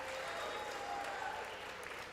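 Sustained applause from lawmakers fills the congressional chamber during a vote count, a steady, dense wash of many hands clapping at once with no break across the short stretch.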